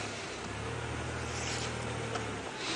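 A safari drive vehicle's engine idles at a low, steady rumble throughout, fairly quiet and unbroken, with a faint outdoor ambience around it.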